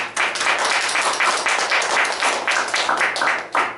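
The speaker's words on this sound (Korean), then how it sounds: "우리 자축의 박수 드립시다" A church congregation at a New Year's Eve service breaks into applause, many hands clapping in a dense, continuous patter that fills the room, with no talk over it.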